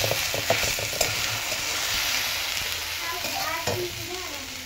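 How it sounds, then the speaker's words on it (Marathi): Green chili and garlic thecha stir-fried in a pan with okra for a village-style Maharashtrian dish, a steady close sizzle broken by scraping stirs of a spatula against the pan. "आपण आता इथं हिरवी मिरचीचा लसूण आणि मिरचीचा ठेचा टाकून घ्यायचा आहे. मला 1-2 मिनिटं परतून घेऊया आपण."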